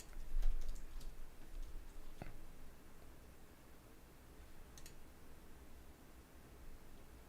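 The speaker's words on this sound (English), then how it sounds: "Typing." Scattered keystrokes click on a computer keyboard, a few short bursts of close, light taps separated by quiet stretches of room hum.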